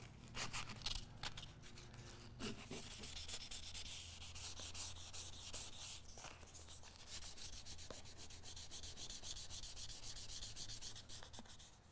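Steady, scratchy rubbing of 2,000 grit sandpaper on a bronze seat post, continuing without pause at close range, with a few sharper scraping strokes near the start.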